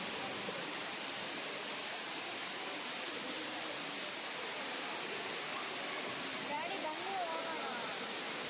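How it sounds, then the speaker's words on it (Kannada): Artificial waterfall at a resort entrance, a steady broad rush of falling water that stays even and fairly loud throughout, with faint voices barely audible near the end. "ಒಳಗಡೆ ಬಂದ ಕೂಡಲೇ ಎದುರುಗಡೆ ಆರ್ಟಿಫಿಷಿಯಲ್ ವಾಟರ್ ಫಾಲ್ಸ್ ಮಾಡಿದ್ದಾರೆ."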